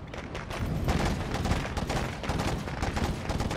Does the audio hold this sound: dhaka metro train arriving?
no